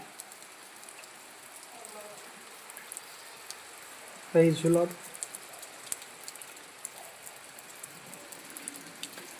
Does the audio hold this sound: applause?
no